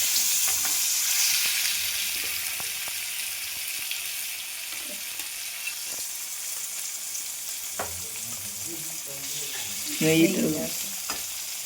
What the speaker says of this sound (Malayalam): ലേശം പൊടി മുളകൊക്കെ തിരുമ്പി വെച്ച മീൻ വറക്കാണ്